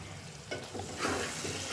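Ivy gourd curry fries in a pan in a village kitchen, a soft sizzle that swells into a brighter, louder hiss partway through, with faint stirring scrapes.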